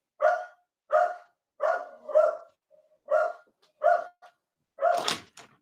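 A dog barks in a loud, regular series of about eight sharp barks, close by, with short gaps and a final rougher bark.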